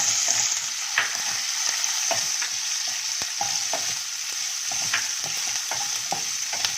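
Vegetables such as cauliflower, capsicum, peas, beans, cabbage and carrot tipped into a hot tempering of chillies, curry leaves, ginger and garlic, hissing steadily in the pan while a spoon scrapes and knocks in uneven strokes.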